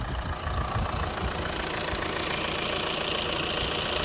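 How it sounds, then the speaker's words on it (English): A 2 litre Fiat engine idles with the bonnet open, a steady, close, coarse mechanical clatter running evenly throughout with no talking. "And this is your 2 litre Fiat engine."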